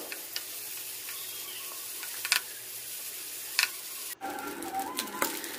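Boroli fish coated in turmeric fries in oil with a soft, steady sizzle, broken by a few brief clinks and stirring knocks.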